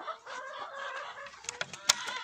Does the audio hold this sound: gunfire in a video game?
no